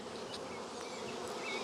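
Honeybees buzzing at a nuc hive, a constant close droning hum with a louder buzz flaring up at the very end.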